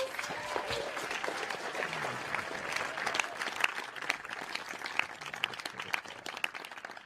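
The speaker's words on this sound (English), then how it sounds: "go ahead and give those folks a round of applause" A school concert audience at a symphonic winds and percussion performance gives a round of applause, continuous mid-level clapping heard from a distance in the hall.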